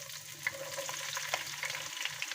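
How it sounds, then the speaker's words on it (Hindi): Finely chopped onions fry in oil in a kadhai, a soft, close, steady sizzle with occasional crackles and small pops, faint and without talk. "ये हमारी अनियन फ्राई हो रही है"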